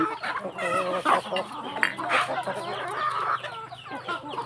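Village chickens, Burmese fighting-cock stock, cluck and squawk close by in a busy, overlapping chorus of short calls, with a few louder cackles rising above the flock.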